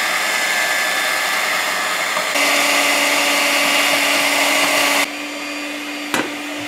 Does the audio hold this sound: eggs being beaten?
yes